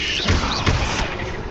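A spell effect from the Hogwarts Legacy video game sounds as a dense magical burst, with a loud thud-like impact around a third of a second in and a second swelling hit shortly after, over a continuous bright shimmering wash.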